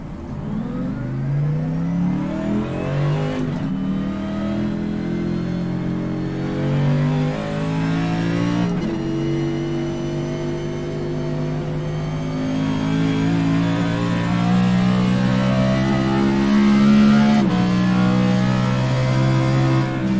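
A race car with an adjusted left front shock is driven on a track. Its engine revs steadily, rising and falling through repeated gear changes, loud and continuous for the whole stretch.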